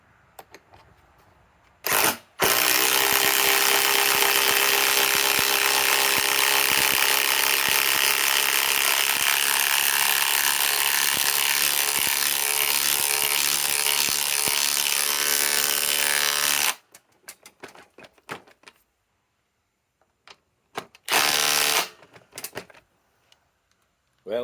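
A Ryobi PSBIW25 compact impact wrench hammers continuously for about fifteen seconds, loud and close with a steady rapid rattle, then stops; a couple of shorter bursts follow, with quiet gaps between them.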